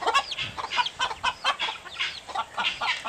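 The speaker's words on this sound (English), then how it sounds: "what I like about this chicken is that he looks like a hawk" A farm chicken clucking up close, a run of short rhythmic clucks and bursts about every few tenths of a second, with no talk.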